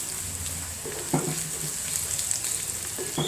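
Crushed dried red chillies crackle and sizzle in hot oil in a pan, a steady frying hiss with a few sharper pops and stirring scrapes.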